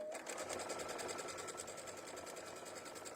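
Close, steady whir of a sewing machine stitching a quarter-inch seam on a candy twist pouch, its rapid needle rhythm running continuously without pause.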